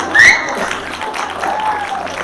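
A church congregation claps briefly during a sermon, a short soft patter of hands with a voice over it.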